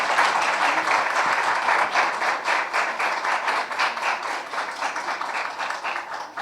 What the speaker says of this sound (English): Huge round of clap. Double clapping for her.